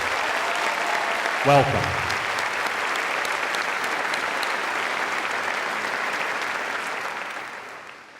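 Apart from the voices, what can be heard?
audience applause for new teachers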